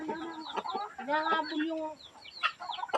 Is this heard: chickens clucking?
yes